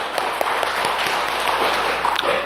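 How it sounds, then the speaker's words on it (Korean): Church congregation applauding during a Sunday service, a dense steady wash of many hands clapping at even loudness throughout, with no voices standing out above it. "영광의 박수를 주님께 돌리십시다."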